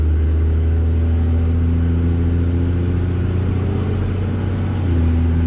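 A straight-piped second-generation Cummins diesel pickup with a full 4-inch MBRP exhaust cruises gently with the windows down, its loud, steady low drone and throaty rumble filling the cab with no voices.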